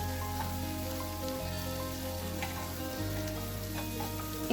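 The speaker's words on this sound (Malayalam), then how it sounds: "ലോ ഫ്ലെയിമിലിട്ട് നന്നായിട്ട് നമുക്ക് വീണ്ടും കുറച്ച് നേരം ഇളക്കി കൊടുക്കണം" Squid roast with plenty of curry leaves sizzles steadily in a pan on a low flame, a continuous soft crackle under a faint background tone, with light stirring and no voices.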